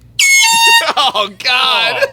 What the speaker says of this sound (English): So over there we have an air horn that sounds like this.